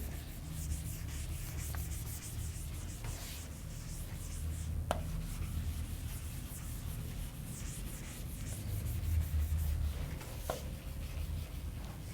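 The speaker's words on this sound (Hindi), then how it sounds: "चलिए इसे रब कर देती हूं मैं।" A duster rubs steadily across a board to erase written notes in an electronics lesson, a continuous close scrubbing hiss over low room hum with a few faint taps.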